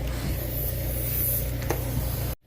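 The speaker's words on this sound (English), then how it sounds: "If you do it hot, it gets in all the corners. You want to spray in there good." A spray gun blows gray powder coat onto hot engine timing covers and tubing with a steady, close hiss that runs unbroken for about two seconds, then cuts off abruptly.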